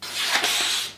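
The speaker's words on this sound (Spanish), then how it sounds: "probando el filo de este cuchillo sobre el folio de papel" A large deba kitchen knife slices through a sheet of paper in one brief, close, dry papery swish lasting about a second.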